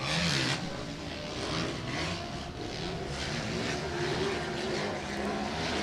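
A Yamaha racing motorcycle engine drones through a motocross race, a distant, steady buzzing roar that swells and fades as bikes lap the track.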